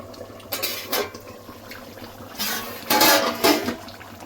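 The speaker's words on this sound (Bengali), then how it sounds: "ঢাকনা খুলে দেখে নেব।" A lid coming off a cooking pot of papaya chicken curry: a few close metallic clanks and scrapes spread over a few seconds, fairly loud, with no talking.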